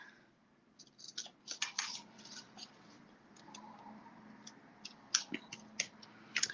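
An acetate sheet, 8 by 3 inches, folded along a score line: a series of quiet, brief crinkling clicks and snaps, close by and sparse, with a couple of sharper cracks near the end, no talking.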